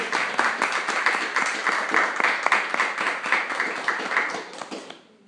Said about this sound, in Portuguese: Eu convido você a aplaudir a presença do Senhor Jesus.